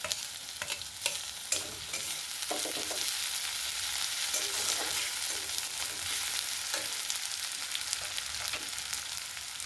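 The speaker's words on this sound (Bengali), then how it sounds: "আদা রসুনটা ভেজে নিয়েছি" Grated ginger and garlic frying with fried onion and cumin seeds in a pan, a steady close sizzle broken by the scrape and clack of stirring, with no voices.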